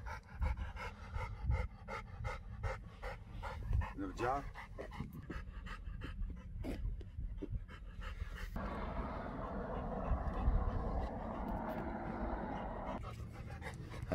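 An American Bully dog pants in quick, rhythmic breaths close by after training, interrupted by a person speaking and some shuffling noise.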